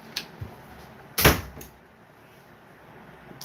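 A door slammed indoors in a home, one loud sharp bang standing out from quiet room noise, with a couple of softer knocks just before it.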